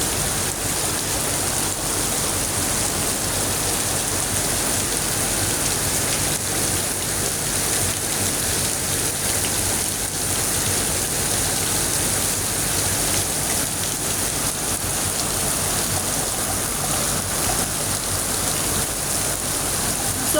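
Heavy rain pouring down outdoors, a loud, even, unbroken hiss of drops hitting surfaces, close by and steady for the whole stretch, with no voices.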